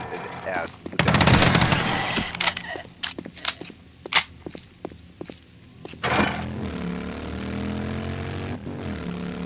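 Gunfire in the video game 7 Days To Die: a loud automatic burst, then several separate sharp shots, followed by a steady droning hum.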